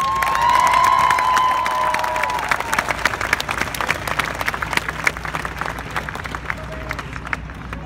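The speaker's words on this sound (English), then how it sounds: "deserves a round of applause" Audience applause at a Washington DC event where the Surgeon General is speaking: dense, loud clapping with some cheering, starting over a brief whistle or shout, then gradually thinning across the room.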